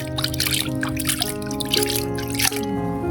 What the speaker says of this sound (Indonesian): siram-siramkan sampai medianya basah ya guys ya